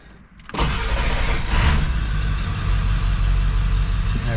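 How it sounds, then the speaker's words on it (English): A diesel truck engine cranks and catches after a brief quiet moment, then settles into a loud, steady rumbling idle close by. "maybe I'm going to start the truck"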